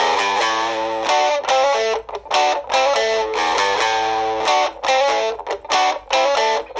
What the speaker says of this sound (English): you can rock out loud, even with distortion, without having to plug your guitar into an amp